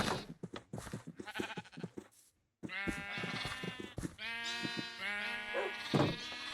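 Sheep in the video game Minecraft bleat in a series of wavering, nasal calls, with a cluster of short broken bleats, a brief silence, then longer drawn-out cries, some overlapping, at moderate volume.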